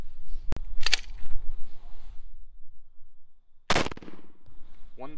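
Two loud, sharp 9mm pistol shots from a 4.5-inch barrel, firing Federal HST 124-grain rounds into ballistics gel, ring out at close range about three seconds apart, with a brief muffled voice near the end.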